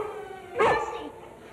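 A dog lets out one sharp bark from a 1960 television drama. It rises briefly at mid-distance over a quiet background and fades out.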